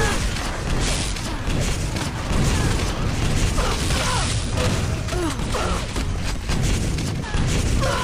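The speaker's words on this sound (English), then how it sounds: "Stry gets the frag with the rocket" Rocket launcher blasts and explosions in a team deathmatch shooter game, a dense, continuous barrage of booms and pops mixed with mechanical game noise, loud and close throughout.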